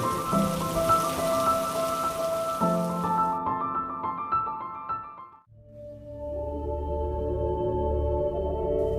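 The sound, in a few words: heavy rain pouring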